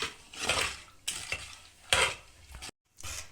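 Rava dosa batter for hotel-style rava onion dosa being stirred in a bowl, giving several loud, scraping, sloshing strokes in uneven bursts with a brief silent gap near the end; no one talks.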